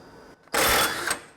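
A tool turning a reverse-thread nut on a Harley-Davidson primary, one brief loud mechanical whirr or ratcheting burst close up after a quiet moment.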